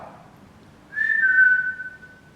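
A single human whistle rises and holds a clear, bright tone for about a second, then fades, heard close against a quiet background.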